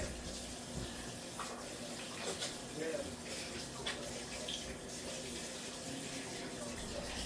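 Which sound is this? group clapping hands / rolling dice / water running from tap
water running from tap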